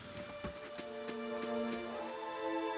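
Rain falls in Pillars of Eternity, a soft, quiet patter spread evenly throughout, with faint droplet ticks and a light sustained tonal hum underneath.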